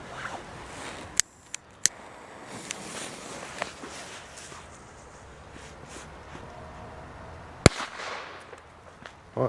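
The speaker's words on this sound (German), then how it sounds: "als erstes die Pyrocracker von dem Knall und Pfeif" Small whistling firecrackers pop sharply a few times at irregular intervals, with faint crackling and quiet outdoor ambience between the bangs.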